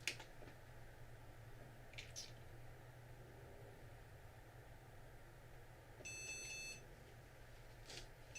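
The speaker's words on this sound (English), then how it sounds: "That is beeping when I press a key, like the buffer's full." A 486 computer emits short electronic beeps on key presses as its keyboard buffer fills, with a brief cluster of tones near the end over a faint steady hum.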